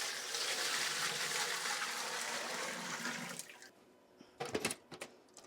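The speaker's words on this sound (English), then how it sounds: "All right, this is just clean water." Clean water pours in a steady loud rush into a Brewilla Gen 4 all-grain brewing system, then stops abruptly, leaving a few short splashes and clunks.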